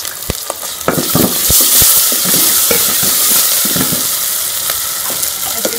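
Tomatoes and green chillies dropped into a hot pan for a black chickpea curry, loud steady sizzling with a bright hiss and scattered sharp pops and spatters throughout, no voices.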